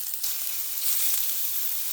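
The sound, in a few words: tofu frying in oil in a pan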